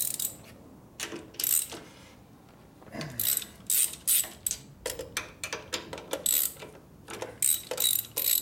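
A wrench works loose a part on a 1967 74ci Harley shovelhead transmission during a rebuild, giving repeated sharp ratcheting clicks in quick bursts, close and fairly loud with short pauses between strokes.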